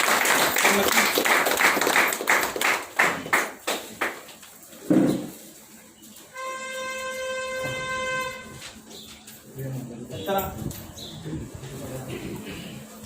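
Audience applause at a table-and-chair distribution event for self-employment societies in Bhudargad taluka. Dense clapping runs for several seconds, mixed with voices, and is followed by a sustained electronic tone.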